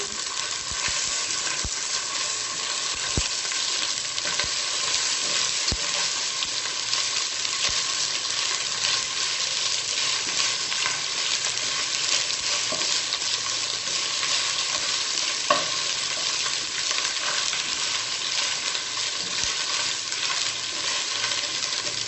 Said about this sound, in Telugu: ఇప్పుడు అల్లం వెల్లుల్లి పేస్ట్ యాడ్. కొంచెం ఫ్రై అవ్వనివ్వాలి.